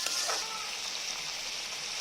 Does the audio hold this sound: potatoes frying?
yes